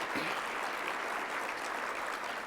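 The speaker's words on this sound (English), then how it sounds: "Let's give our honorees a big round of applause again." A luncheon audience at a 2022 MLK business awards event gives the honorees a sustained, even round of applause, a dense wash of many hands clapping from across the room.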